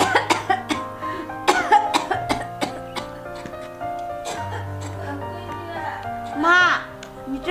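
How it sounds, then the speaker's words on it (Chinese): An elderly, bedridden mother coughs indoors in a domestic scene, a few short coughs heard up close over a steady bed of background music. "妈，你这怎么咳嗽了呀？"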